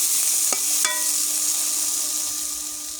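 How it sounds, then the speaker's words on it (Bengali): Noodles fry in a pan with a steady, dense sizzle throughout, broken by a couple of sharp scraping clicks of stirring early on; close and fairly loud, with no voices. "তো আমি আবারও ভালো করে নেড়ে দিলাম নেড়ে ভালো করে ভেজে নেব"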